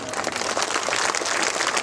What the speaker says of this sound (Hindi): अभी तालियां तो बहुत बज रही हैं